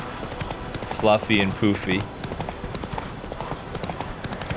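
Horse hooves clip-clopping in The Witcher 3 game, a steady trotting rhythm of soft hoofbeats running throughout, beneath a voice talking over it.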